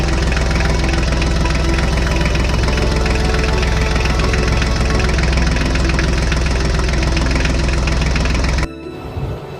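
A tractor engine running steadily in a farm field, a loud continuous low rumble with a knocking, throbbing texture that cuts off abruptly near the end, leaving a quieter residual noise.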